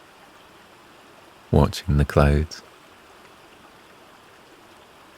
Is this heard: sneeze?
no